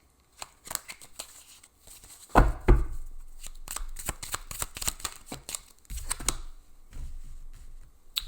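Tarot cards shuffle in quick riffling bursts, close and fairly soft, with a couple of sharper slaps of the deck and no talk.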